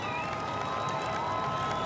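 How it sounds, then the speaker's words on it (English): A crowd at a Formula E race in Britain cheers for the third-place finisher, a continuous roar of cheering and applause that holds at a steady level throughout. "Huge cheer for him after his third place finish."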